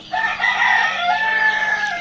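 Poultry shop selling chicks and ducklings: a close, loud bird call rises sharply and holds for about two seconds, a drawn-out, crowing-like cry from the fowl, with no talking.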